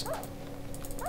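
Rufus the dog in a Minecraft game gives short high whimpers, one at the start and another at the end of a brief, steady, moderately loud stretch with no talk.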